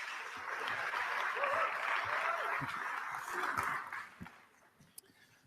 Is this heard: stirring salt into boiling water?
no